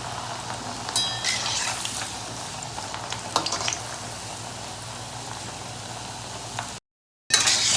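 Sweet potato pantua balls frying in hot oil give a steady soft sizzle and bubbling, with a few brief clinks and scrapes, then a short gap of silence before the sizzle resumes.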